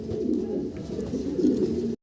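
Pigeons coo in a low, continuous murmur at a pigeon seller's, close by and fairly soft, with no talking before it cuts off abruptly.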